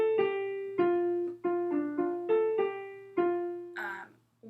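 A piano plays the intro melody of a song as a short run of about eight clear, evenly paced single notes, each ringing and decaying before the next, heard alone.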